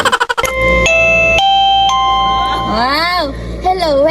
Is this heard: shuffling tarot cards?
no